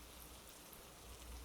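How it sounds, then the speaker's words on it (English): Steady rain falling in a rainforest makes a soft, constant hiss of drops, faint and even throughout, with no voices over it. "It's a world of rainforests and ever-falling rain out here,"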